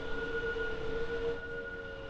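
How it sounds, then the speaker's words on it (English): A Deutsche Bahn class 423 electric train in Train Sim World 5, near Frankfurt, hums steadily with a sustained whining electric motor tone and rolling noise, continuous and even throughout. "a nice German train tonight. Yeah, the 423, the Deutsche Bahn."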